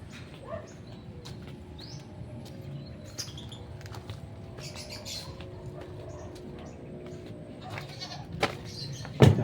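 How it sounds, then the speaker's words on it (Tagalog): Goats on a farm bleating in short wavering calls amid a busy outdoor background, with faint bird sounds and a louder bleat near the end. "Ito tayo sa kambing naman."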